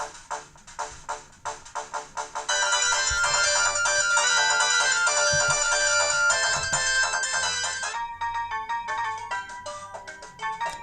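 Sonic 3 game music plays from the small speaker of a budget XL handheld emulator, sounding thin and tinny, with plucky repeating notes that swell into a bright, sustained melody and then thin out again, and no talk over it.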